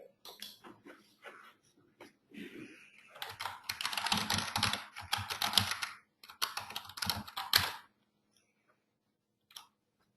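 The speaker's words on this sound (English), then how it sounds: "So I just started to type in the chat box." Typing a message on a computer keyboard: faint, close keystroke clatter comes in several bursts of rapid clicks separated by short pauses, then a single late tap, with no talk.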